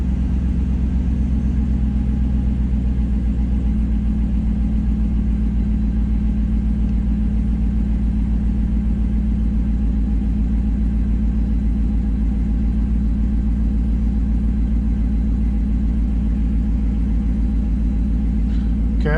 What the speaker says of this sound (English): That fob starts the truck. We'll let it come down on idle here.